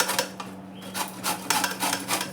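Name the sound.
grating raw mangoes for pickle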